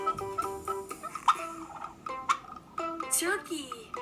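A turkey gobbles in a rapid, warbling burst from a farm-animal sound set, heard alone at moderate loudness with several quick rattling calls and chirpy overtones across a few seconds.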